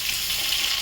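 Chopped onions sizzling in hot oil for a mutton curry, a steady bright hiss of frying, close and continuous with no voices.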